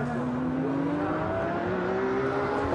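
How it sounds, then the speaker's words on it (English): An Aston Martin DBRS9 race car at Monza, running with a smoke problem, drones steadily, its engine tone rising smoothly as it accelerates, loud and continuous with no speech. "Down to the chicane goes number 3 Aston Martin, leading the race, but with this problem of the smoke."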